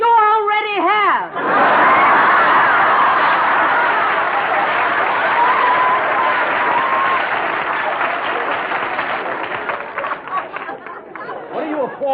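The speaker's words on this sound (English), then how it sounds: "What are you applauding?" Studio audience at a 1954 radio broadcast breaks into loud, sustained applause mixed with crowd chatter and a few whoops, following a brief spoken line and fading into renewed talk near the end.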